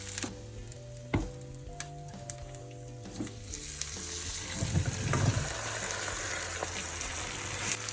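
Anchovy rice pilaf frying in oil in a pan, a soft crackling sizzle with occasional clinks and knocks, quiet and close, no talking.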